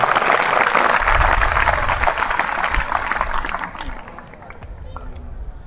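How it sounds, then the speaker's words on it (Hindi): A large audience applauds ISRO scientists at a Chandrayaan-3 event, a loud sustained wash of clapping with crowd murmur that eases off toward the end. "इन सभी वैज्ञानिकों के लिए एक बार पुनः जोरदार ताली।"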